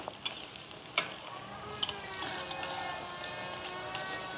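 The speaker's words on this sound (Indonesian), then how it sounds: "Goreng sampai renyah ya teman-teman, sampai benar-benar kering." Tofu coated in tapioca flour fries in hot oil, giving a steady crackling sizzle with scattered sharp pops and spits. No one speaks.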